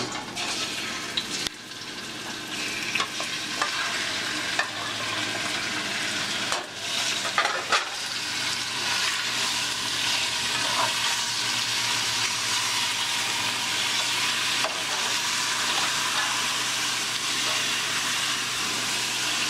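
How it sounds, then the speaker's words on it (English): Chicken sautéing in a pan for arroz con pollo gives a steady, close, full sizzle with occasional stirring scrapes throughout, no voices. "we're just going to add our chicken. And then we're just going to saute it until it's nice and brown"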